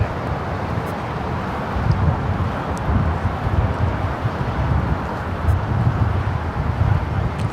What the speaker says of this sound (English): I would say this is the first big windstorm we've had of the season